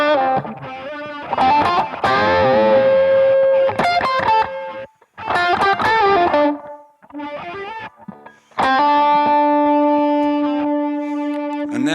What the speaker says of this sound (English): reverse delay that you can hear has already picked up the end of my note there.